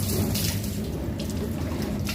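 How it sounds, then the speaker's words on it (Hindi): Water pours steadily over a left shoulder during ghusl bathing, a close, continuous splashing gush like a running tap, heard alone. "इस तरीके से आप बाएं कंधे पे पानी डालेंगे"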